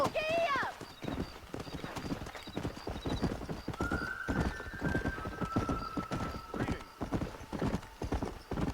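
Horse hooves clip-clop in a steady galloping rhythm in the western game Red Dead Redemption, with a whinny near the start, a voice talking over the riding throughout.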